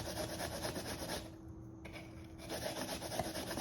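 Sticky Japanese yam is grated for okonomiyaki batter, giving a close, continuous wet rasping scrape that pauses briefly midway before resuming, with no talking.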